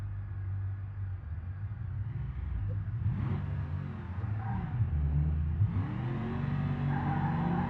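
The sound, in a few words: four-wheel burnout in BeamNG video game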